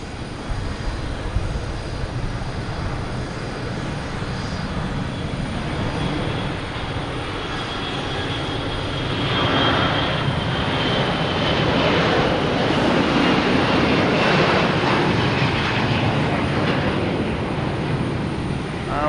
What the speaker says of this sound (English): We'll stick with this takeoff though with the Lufthansa A340